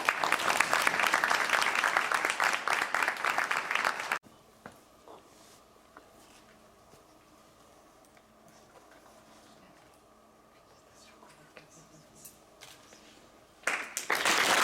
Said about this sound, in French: Nous pouvons l'applaudir.